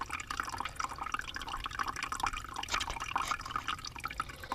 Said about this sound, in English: That little nipple right there is draining it out.